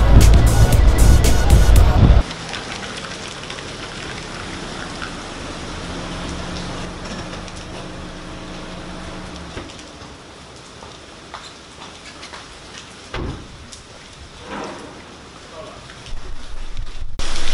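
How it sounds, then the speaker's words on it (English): Steady rain hiss with a loud burst at the start, then softer patter continuing throughout, with occasional bumps and thuds. "Weather is so bad. It's raining."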